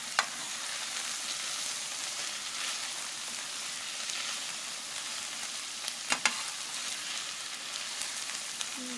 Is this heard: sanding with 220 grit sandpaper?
no